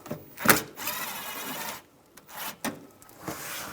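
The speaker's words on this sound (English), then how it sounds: "Underneath here, you want to take this bolt out. Use a 7mm socket." A 7mm socket works a bolt loose beneath the front bumper of a 2008-2017 Buick Enclave, giving short scraping, ratcheting bursts of metal with brief pauses between them, close and fairly quiet.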